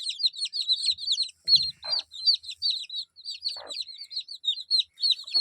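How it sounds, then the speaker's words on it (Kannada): A tray of 18 newly hatched desi chicks keeps up dense, high chirping and peeping, close and continuous, with a couple of soft rustling bumps in between. "ಟೋಟಲ್ 18 ಮರಿಗಳಿದ್ದಾವೆ ಇದರಲ್ಲಿ."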